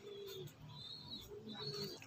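Soft cooing and brief chirps from a pet pigeon being treated for an eye infection, low and close, continuous over faint background hiss, with no talk.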